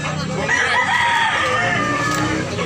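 Roosters crow at a gamefowl market in Tabunok, Cebu, where breeds such as Tasmanian are sold. A strained crow rises and holds near the mic among overlapping clucks and crowd noise.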